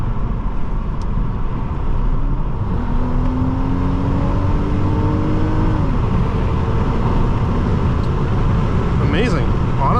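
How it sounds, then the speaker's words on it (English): A 2004 Nissan Maxima 3.5 SE with a four-speed automatic accelerates on a backroad, its engine note climbing steadily through a gear over loud continuous road and cabin noise. "do some backroad driving and test the acceleration"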